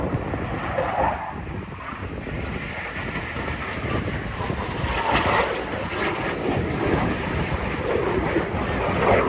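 Jet fighter displaying over a seafront at a Battle of Britain commemoration, its engine a loud, steady broadband roar that swells gradually as it passes, heard without speech.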